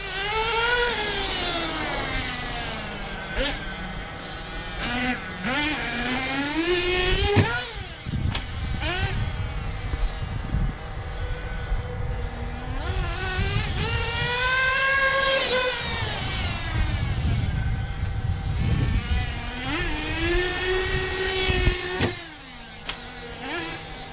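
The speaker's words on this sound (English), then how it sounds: "Idle's picking up on the Hobao" Nitro engine of a Hobao Hyper VS2 RC buggy idling during break-in, a buzzy high-pitched drone that rises and falls in pitch with repeated revs, loud and close throughout.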